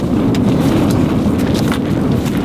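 Strong desert wind buffets the microphone in a continuous low roar, with gusty surges and flutter throughout and no voices.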